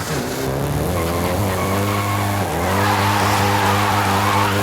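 Volkswagen Golf GTI in Forza Horizon 5, engine droning loudly with pitch rising and dipping briefly before climbing again, tires faintly squealing, with no talk over it.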